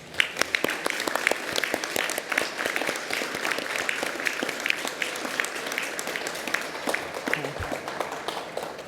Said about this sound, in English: join me in applauding the wonderful achievements of our graduates